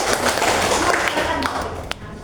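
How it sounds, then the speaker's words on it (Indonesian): Applause for a presenter at a waste-sorting community session breaks out as a dense, steady patter of many hands, fairly loud and continuous across the whole stretch, with room noise underneath. "tepuk tangan buat Mbak Tri"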